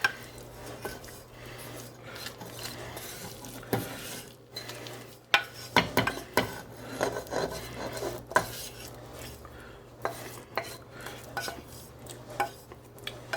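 Roux and vegetables tipped into a gumbo pot with opened clams, then stirred with a utensil that clanks and scrapes against the pot under a low sizzle, no talk.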